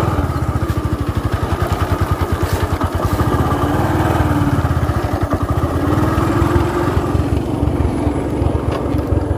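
Motorcycle engine running steadily close by on a rural track near Kaziranga, a loud throbbing idle-like putter with rapid regular pulses throughout, no talk.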